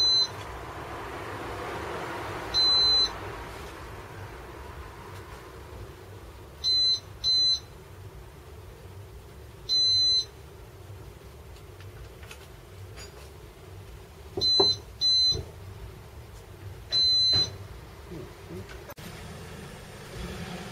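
A Datatool S3 alarm on a Triumph motorcycle waking up with a string of short electronic beeps, singles and quick doubles spaced irregularly, clear above a faint background hum.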